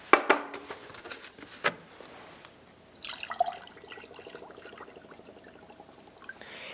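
Salt water solution, roughly 15 percent, poured into a cup: soft splashing and trickling mid-clip, after a few sharp drips and taps near the start, fairly quiet with no talk.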